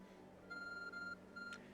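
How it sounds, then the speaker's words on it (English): Repeated electronic beeping of the ARC phone in Pokemon Legends Arceus, two sustained tonal chirps with a brief rising chime at the end, clear over quiet game background music. "Your ARC phone is beeping."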